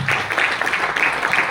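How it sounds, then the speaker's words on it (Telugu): Audience applause at a Vestige business training meeting: dense, steady clapping from a crowd that holds at an even, fairly loud level for the whole short stretch. "me great clap"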